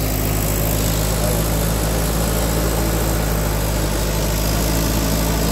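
A machine clearing vegetation at a dig site before excavation, its engine running steadily and loud throughout with a constant low drone and no breaks.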